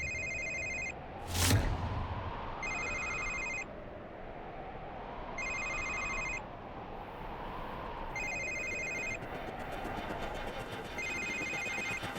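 A telephone rings in a repeated electronic pattern, bursts of bright trilling tones at regular intervals, heard alongside a rising and falling background hum and a single sharp knock early on.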